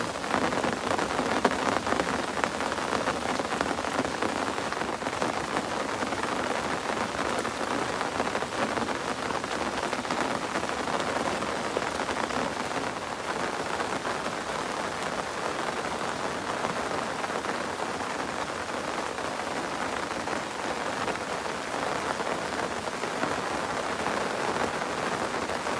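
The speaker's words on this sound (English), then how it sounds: "It'd be nice if it stopped raining." Heavy rain falling steadily on a river and its bank during float fishing, a dense, even hiss of drops that stays constant and close throughout, with no speech.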